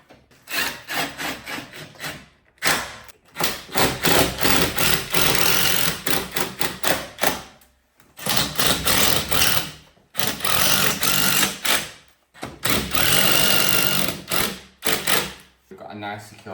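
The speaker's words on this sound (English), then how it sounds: "We're going to use our trusty impact driver again to drive in our fixings." An impact driver drives 80mm fixings through a TV wall bracket, giving bursts of loud rapid hammering of about one to two seconds each, separated by short pauses, with some talk mixed in.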